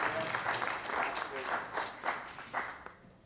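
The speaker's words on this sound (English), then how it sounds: "That's worth a round of applause." Faint, scattered applause from a crowd at a Pittsburgh union canvass kickoff rally, soft and somewhat distant, with voices mixed in.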